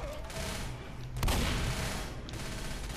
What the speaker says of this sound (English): Is that a combat shotgun? Oh my god, it is.